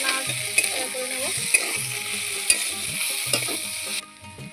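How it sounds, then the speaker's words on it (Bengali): Fried fish and potatoes crackle in oil as they are stirred around a pan, a steady sizzle broken by repeated scraping strokes and a few sharp utensil knocks, with the frying dropping away in the final half second. "এখন যে আলুগুলো ছাড়িয়ে রেখেছিলাম আলুগুলো এর মধ্যে দিয়ে দেবো। আবারও হালকা নাড়াচাড়া করে নেব।"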